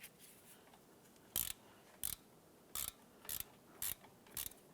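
Socket wrench ratcheting while tightening a caliper bracket bolt on a 2012-2017 Toyota Camry during a wheel hub job, six short sharp clicking bursts at steady intervals over a faint background hiss.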